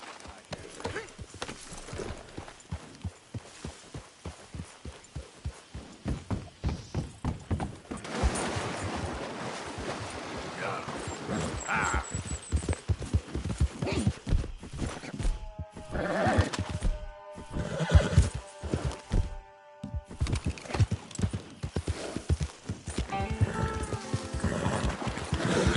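A horse in Red Dead Redemption 2 gallops with rapid, driving hoof beats that build in pace, followed by a whinny and snorts, up close, with game music and some talking mixed in.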